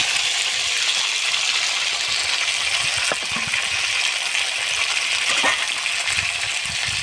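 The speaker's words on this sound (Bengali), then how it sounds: "ভেজে রাখা আলু আর পেঁপেটা আমি মশলার ভেতরে ঢেলে দেবো।" Fried potatoes and papaya tipped into a pan of frying spices in a village kitchen, giving a steady loud sizzle and hiss of hot oil throughout, with a couple of faint clinks.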